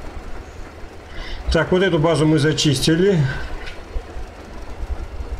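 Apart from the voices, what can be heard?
train with three wagons riding in Metro: Exodus video game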